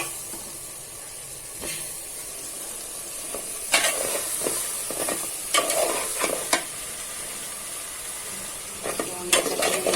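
Goat trotters frying and being stirred in a pan, with a steady high sizzle and several sharp scrapes and clatters of the spoon against the pan, up close and with no talk.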